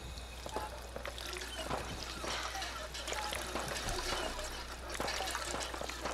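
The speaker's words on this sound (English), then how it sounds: "So I just basically just pour water on the ground for no real purpose?" Water poured onto the ground in Fallout 4, a steady splashing trickle running the whole time over faint game ambience, no voices.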